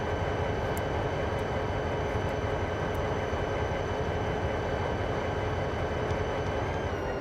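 A subway train on the Bayport Branch rumbles steadily in a low, continuous drone while moving, heard from inside the car, with faint occasional clicks and no talking.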